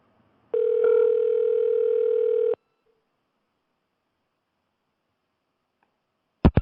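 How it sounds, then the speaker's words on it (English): A steady telephone dial tone sounds clearly for about two seconds, then cuts off into silence before a brief muffled knock at the end. "We're dialing."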